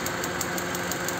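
Misfiring car engine at idle, with the ignition spark jumping across instead of reaching the spark plug, giving a steady close rough knocking and crackling rattle with faint regular ticks and no talk.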